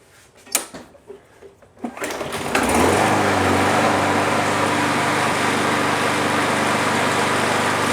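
A few clunks and rattles, then a Yard Machines 21-inch push lawn mower engine, after lying on its side for hours, catches and roars into a steady, loud, close-up drone.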